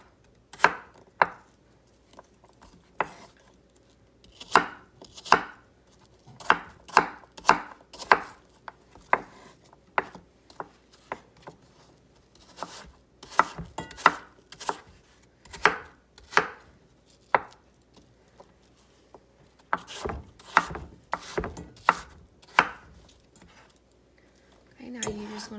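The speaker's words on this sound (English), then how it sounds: "And then dice up apples" Apples being diced with a knife on a cutting board, a long series of crisp, close chopping knocks in irregular bursts of quick strokes with brief pauses, loud and alone without talk.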